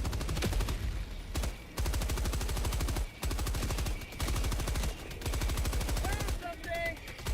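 A sentry turret in Helldivers 2 fires long rapid bursts of automatic gunfire, loud and close, broken by short pauses, with faint electronic chirps near the end.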